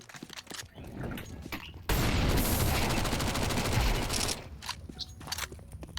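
Sustained burst of rapid automatic gunfire from the Counter-Strike 2 video game, loud and dense for a couple of seconds, bracketed by quieter scattered shots and in-game movement.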